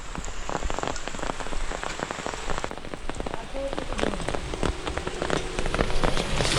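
Heavy monsoon downpour in Konkan pours down in a dense, loud, continuous roar of rain drumming on surfaces nearby, with many close drops spattering and no talking.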